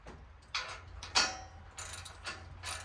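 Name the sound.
socket wrench ratcheting to tighten bolts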